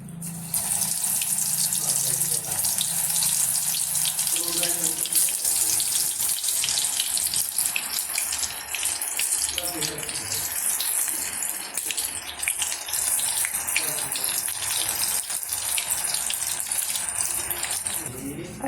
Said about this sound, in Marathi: आपण आता भजी तेलात सोडून घेऊया।